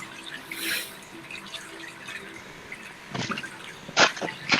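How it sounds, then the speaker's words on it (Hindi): Clear water flows in a river, pond or waterfall, giving a soft, continuous trickle broken by a few louder splashing bursts near the end. "बहुत ही खूबसूरत एक पानी का फ्लो है"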